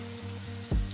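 Garlic cloves dropped into a hot pan after deglazing while making creamy chicken, a soft steady sizzle with a low hum beneath, then a sudden louder burst of frying near the end.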